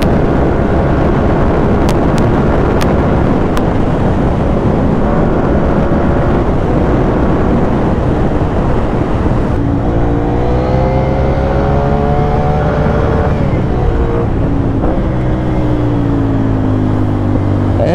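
A 2014 Ducati Monster 696 motorcycle being ridden, its engine loud and close under heavy wind roar, revving and changing pitch as it accelerates through the gears with rising and falling tones.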